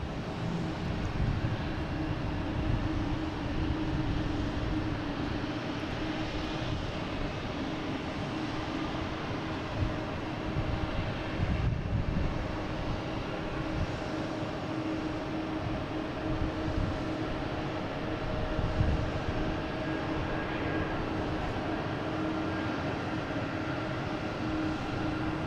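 A JetBlue Airbus A220 at Boston Logan airport gives a steady, loud jet engine roar that holds for the whole stretch, with no talk.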